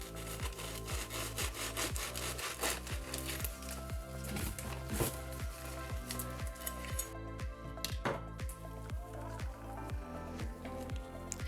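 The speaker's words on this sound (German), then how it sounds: "Jetzt schneide ich jeweils eins auf und wir können vergleichen," A knife saws through seeded bread rolls, making quick rhythmic rasping strokes, close and continuous, with the crust crackling throughout.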